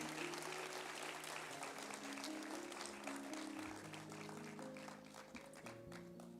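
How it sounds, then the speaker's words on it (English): An audience gives a round of applause for young children after a Jungle Book annual day school performance, faint steady clapping over soft background music. "can we have a loud, loud round of applause for all these little ones?"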